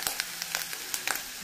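Omena, small fish, frying in a pan, giving a dense, steady crackling sizzle with repeated short scrapes and taps as they are stirred, close and with no voices.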